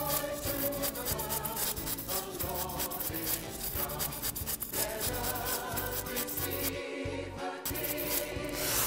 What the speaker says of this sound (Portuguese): Agora que eu cortei tudo com o estilete